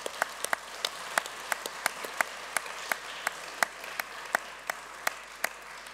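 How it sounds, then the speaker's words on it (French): Sparse applause follows a talk by speaker Olivier Kaiser at a panel event, a soft thin spread of hand claps with a few sharper individual claps standing out, fairly faint and without speech. "On peut l'applaudir."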